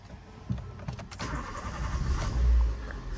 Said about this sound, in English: However, I'm going to start the car now.